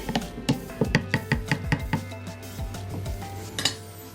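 A spoon stirs curdled milk in a bowl for cake batter, giving a run of quick clinks and knocks against the side, about a dozen close strikes in uneven rhythm, then a brief pause and a last few taps.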